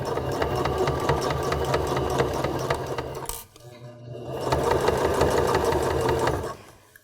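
A sewing machine stitching fabric for a sleep mask, a close rhythmic mechanical whir that pauses briefly midway for a pivot, then resumes and winds down.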